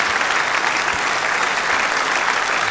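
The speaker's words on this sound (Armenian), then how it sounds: "ծափահարենք ավելի բարձր" Audience at a stand-up comedy show applauding loudly and continuously, a dense, even wash of clapping from a crowd, with no gaps.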